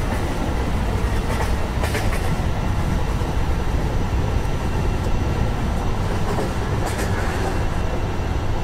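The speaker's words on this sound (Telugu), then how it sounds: "ట్రైన్ వాడు మళ్ళీ వెళ్తున్నాడు ముందుకే." A train running on a Central Railway route in Train Simulator, a steady loud rumble of rolling wagons with faint clickety-clack, continuous and without talk.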